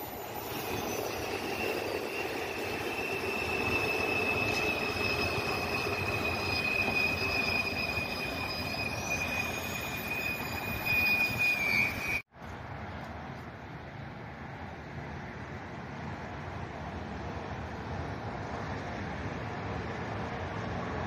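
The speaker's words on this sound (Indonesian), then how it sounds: "Kereta lewat lagi tuh." A high-speed train passes on an elevated track at Tegaluar, with a loud, sustained high-pitched wheel squeal over steady rumbling rail noise. The sound cuts off abruptly partway, leaving a quieter, duller rumble.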